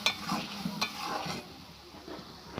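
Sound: spices being stir-fried with ginger, garlic, onion, tomato

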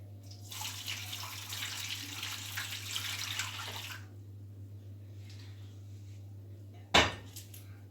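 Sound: pouring warm milk into a tray

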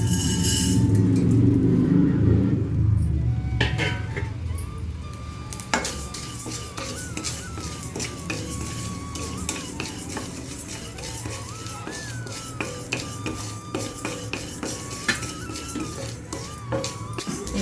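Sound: stirring urad dal roasting in a pan

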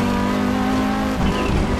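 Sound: Audi Quattro S1 E2 rally car braking and sliding, Assetto Corsa video game

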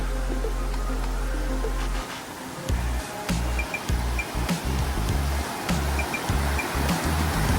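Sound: Urulikkund waterfall water flowing between rocks

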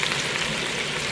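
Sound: onions and garlic frying in a pan

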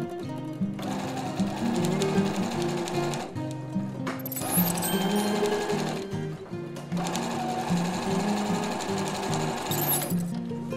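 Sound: sewing machine stitching fabric with polyester thread

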